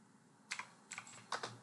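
Three quick clusters of keystrokes on a computer keyboard, close and crisp over a quiet background, with short pauses between bursts.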